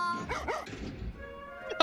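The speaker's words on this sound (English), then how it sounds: "Stupid dog." A dog from the film Toy Story gives a few short barks and whimpering yips, moderately loud, with a brief louder sound cutting in at the end.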